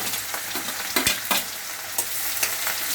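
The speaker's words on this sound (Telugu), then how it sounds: "నూనె బాగా కాగిన తర్వాత ఉల్లిపాయలు, పచ్చిమిరపకాయలు వేసుకోవాలి" Onions and green chillies frying in hot oil in a pan, a constant crackling sizzle broken by a few sharp scrapes and clinks of stirring, close and fairly loud with no talk.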